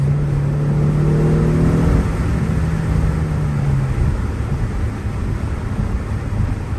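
A 2022 Genesis G70 with a 3.3L twin-turbo engine accelerating hard in first gear, its loud engine drone rising steadily in pitch for a few seconds before easing into a constant roar over road noise, with no talk.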